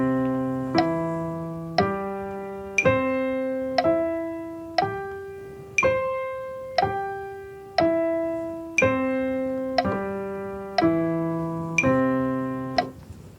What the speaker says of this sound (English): So that's playing arpeggios in quarter notes